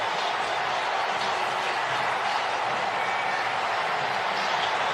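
Stadium crowd roaring steadily for a late go-ahead touchdown by Miami against New England in an NFL regular-season game, a dense, loud wash of cheering that holds without a break.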